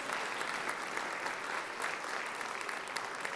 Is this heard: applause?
yes